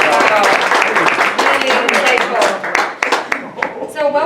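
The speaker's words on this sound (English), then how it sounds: "Can I get another round of applause for Dr. Steenblock?" Audience applause at a keynote for Dr. David Steenblock at the BioRegenesis Conference, a steady dense wash of many hands clapping throughout, loud and close, with voices mixed in.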